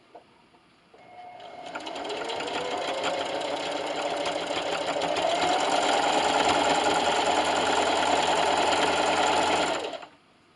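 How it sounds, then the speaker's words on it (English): A sewing machine stitches a seam down a receiving blanket in one long, steady run of about nine seconds, a fast even whir that starts after a brief quiet moment and stops abruptly near the end. "I'm just going to run this seam line right down the center of my presser foot."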